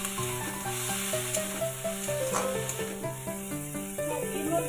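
Tomato and pav bhaji ingredients fry in a pan with a constant hissing sizzle and soft stirring, heard beneath a louder tune playing in the background.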